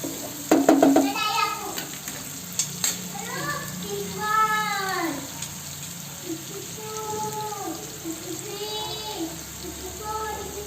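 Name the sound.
onions sautéing in a pan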